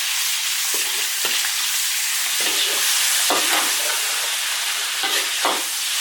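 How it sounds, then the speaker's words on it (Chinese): Steady loud sizzling of cured pork frying in a wok, with bursts of scraping as a spatula stirs it several times. "腊肉煸炒"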